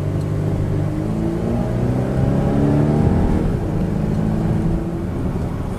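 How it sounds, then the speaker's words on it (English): Volvo XC90 engine humming steadily while driving, a smooth low drone that rises slightly as it accelerates and then settles, heard from inside the cabin with no talking. "A little bit of the engine sound."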